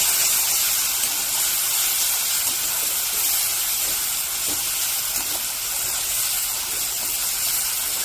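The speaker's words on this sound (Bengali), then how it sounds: "পেঁয়াজগুলো দিয়ে ভালো করে নেড়ে ভেজে নেব।" Onions and spice masala frying in oil in a pan, giving a steady, close sizzling hiss that runs the whole time with no talking.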